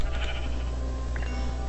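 Sheep bleating in the Minecraft video game, with a couple of short bleats standing out over a steady game soundscape and low background hum.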